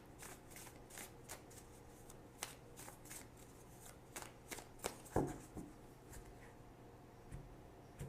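Oracle cards are shuffled by hand in a quiet room, a soft irregular run of riffling and sliding taps with a slightly louder flutter near the end, faint and close.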